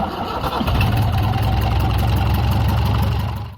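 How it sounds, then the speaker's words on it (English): Perkins 4108 marine diesel engine on a boat in Senegal, running steadily after a start-up surge, a close, loud low throbbing idle that holds for several seconds before fading. "A diesel engine like Simone the Perkins 4108 is the steel pulse of Galopin."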